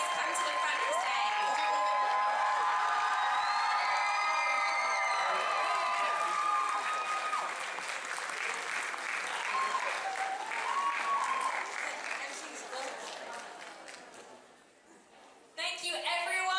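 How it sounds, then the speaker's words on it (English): At the MegaCon Live Manchester cosplay masquerade, a large audience claps and cheers for the winners and judges' choices, with loud sustained applause, scattered whoops and shouts, fading briefly near the end before a fresh burst. "Can we get all our winners and our judges' choices to come to the front of the stage for a huge round of applause and a photo?"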